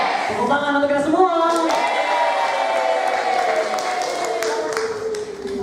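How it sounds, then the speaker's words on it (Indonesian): An audience at a teacher training session breaks into a burst of clapping that carries on steadily, mixed with voices and some cheering. "Tepuk tangan untuk kita semua."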